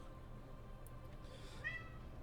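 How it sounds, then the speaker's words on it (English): A faint cat meow rises briefly over a steady background hum, short and distant. "Cat."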